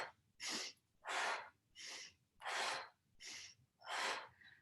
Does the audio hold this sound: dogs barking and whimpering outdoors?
no